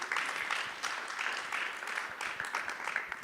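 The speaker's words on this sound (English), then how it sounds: "give him a hand of applause." An audience applauds speakers at an Ignite talk event, a steady, moderately faint wash of many hands clapping that carries on throughout without voices.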